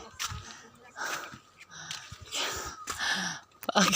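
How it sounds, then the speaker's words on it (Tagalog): Heavy, wheezing breaths and gasps from someone climbing uphill on a nature trail, close to the microphone in uneven bursts, with brief talk mixed in. "Hinihingal na ako."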